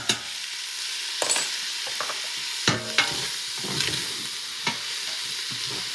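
Minced jarred garlic sautéing in a pan for soup, a steady bright sizzle with scattered scrapes and clicks of a stirring utensil, close and alone without talk.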